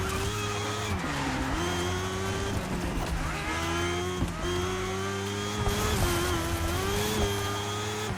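A motorbike in The Crew Motorfest video game leans through a corner, its engine whining steadily then dipping and rising again as it accelerates out, loud and close with a tire squeal underneath.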